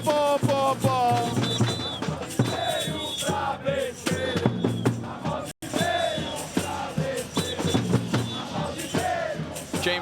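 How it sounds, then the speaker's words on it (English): Loud esports arena crowd at the IEM Rio Major 2022 yelling and chanting in support of MOUZ during a CS:GO match against Cloud9, a continuous roar of voices with rhythmic shouted chants and a brief drop near the middle. "James Banks and the crowd giving energy to MOUZ"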